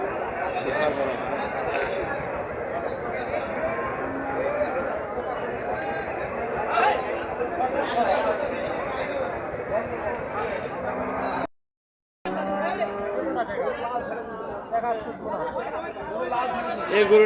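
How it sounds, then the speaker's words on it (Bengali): Dense crowd bustle at a large cattle market, with many overlapping voices chattering continuously, broken by a brief silent gap before the murmur resumes. "বাজারের এরিয়া বিশাল বড় হাট,"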